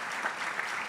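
Audience applause for a guest introduced at a talk on ethics and sport, a dense, steady wash of clapping from a crowd that fills the brief moment without a break.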